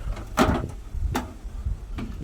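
Fold-up entry steps on a 2022 Cougar 33RLI travel trailer swing up into the door, giving a few close, sharp clunks spaced about a second apart with no talking.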